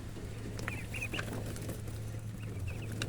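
Young domestic ducks at a farm pen give soft, scattered calls and quacks, with short chirpy bursts standing out over a steady low hum and background noise.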